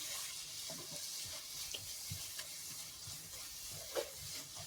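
Ingredients sautéing in a pan while sweet potato is fried, a faint steady sizzle with occasional soft stirring taps and scrapes, no voices.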